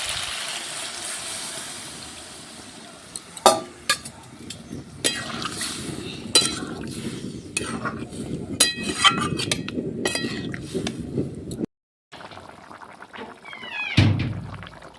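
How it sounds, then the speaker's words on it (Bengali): Water poured into a cooking pot of chicken and vegetables, a loose watery splash with pot clinks and knocks over about twelve seconds, then a short pause and a brief final clatter. "এবার পরিমাণ মতন জল দিয়ে দিচ্ছি।"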